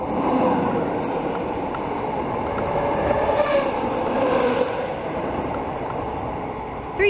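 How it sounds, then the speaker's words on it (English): A Royal Mail train rolls past at Warrington, a loud, close, continuous rumble and roar of wheels on rail that holds steady for several seconds before easing off. "A Royal Mail train?"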